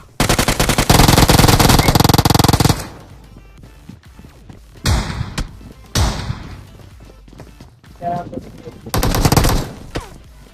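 Gunfire in the PUBG video game: a loud, sustained automatic burst opens, followed by separate shots and short bursts with gaps between them, while a player talks.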